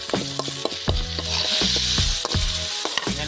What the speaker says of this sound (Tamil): நல்லா இதை வதக்கி